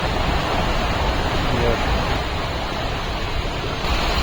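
At Sundarijal, a stream rushes with a constant broadband roar of flowing water, close and loud throughout.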